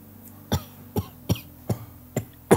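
A person coughs six times in short, sharp bursts spaced about half a second apart, close and fairly loud, with faint background hum between coughs.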